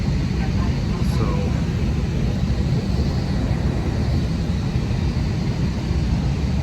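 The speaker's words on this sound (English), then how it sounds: "here we are on the plane, ready to close the doors and take off shortly" Steady low roar of airplane cabin noise aboard a Jetstar flight from Bangkok to Singapore, a constant broadband rumble at the gate before takeoff, loud and unchanging.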